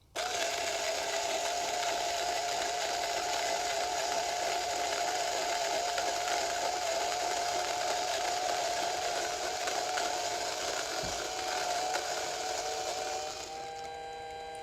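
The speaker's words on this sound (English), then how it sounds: "And let's grind." An Option-O Lagom Mini coffee grinder with 48mm burrs grinds about ten grams of beans in one sustained, steady motor whine at close range, then winds down near the end, with no talking.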